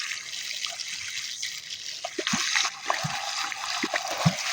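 Water poured onto a plant's roots during garden watering, a steady close hiss of flowing water with scattered drips and small splashes, growing busier in the second half.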